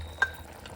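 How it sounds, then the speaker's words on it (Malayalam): Chicken potjiekos being stirred in a pot: one short scrape of the spoon against the pot, then only a low, quiet background hum. "Stir it properly."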